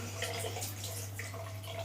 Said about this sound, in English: Then with warm water, I can turn this tap on